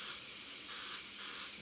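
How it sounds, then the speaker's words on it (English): Airbrush spraying Createx Illustration Colors paint onto Blair synthetic paper, a steady close airy hiss held without a break for the whole stretch, with no talk. "When I spray it all the way like that."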